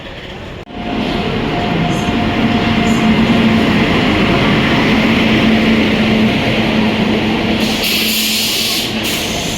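A train on the Bangalore to Mantralaya route rolls into the station loudly with a constant roaring rumble, a faint steady tone running through it, and brief squeaks near the end.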